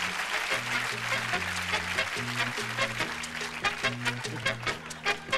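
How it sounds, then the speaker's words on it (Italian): Audience applause at a live magic comedy show in a Milan theatre, moderate clapping running under steady background music with a rhythmic bass line. "un applauso alla signorina"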